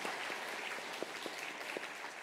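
A church congregation claps in welcome for a newcomer during a Sunday service, a soft, steady patter of applause heard from a distance with no voices.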